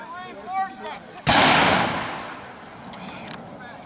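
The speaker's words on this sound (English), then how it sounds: "There's a lot of shooting going on here, folks. A lot of these guns are going off right." At a historical siege reenactment, a single loud blast of gunfire or cannon erupts suddenly and rolls off into a long echoing decay, after brief speech at the start and faint sounds in the background.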